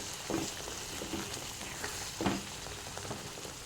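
Soft, steady sizzling of tomato and spices frying in oil, with occasional stirring scrapes, fairly faint and without voices.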